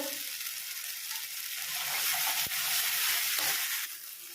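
Ginger garlic paste, tomatoes and onions fry in a pan with a constant close sizzling hiss and faint stirring movement, no voices.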